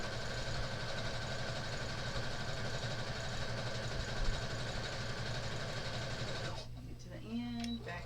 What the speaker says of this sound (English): Get to the end, back stitch, and sew off.